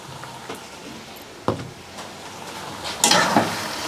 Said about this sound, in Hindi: अब हम इनको अच्छे से मिक्स कर लेते हैं।